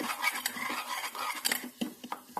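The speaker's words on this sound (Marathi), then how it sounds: "तर हे कांदा खोबऱ्याचं वाटप टाकतोय" Onion-coconut masala paste goes into a pan and is stirred, a spoon scraping and clinking against the metal in quick, irregular strokes at close range.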